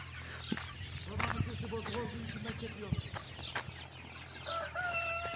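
Young chickens let outdoors for the first time, mostly roosters, cluck and chirp in a busy flock, with a crow and repeated calls rising over the mix while a person speaks nearby.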